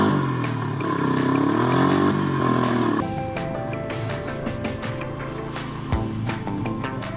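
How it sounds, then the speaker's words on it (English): The engine of a three-wheeler trike drones and revs while it is ridden on rough backcountry trails, with a steady close motor note and clattering bumps. "Apparently, I'm still learning how to ride a trike."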